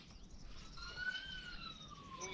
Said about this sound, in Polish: Jezu, karetka, policja jedzie.